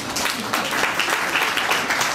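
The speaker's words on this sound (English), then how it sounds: "If you'll give her a round of applause, please." Applause from a town hall audience of DC residents at a DC Council meeting, a steady, dense wash of many hands clapping at once that holds evenly throughout the short stretch.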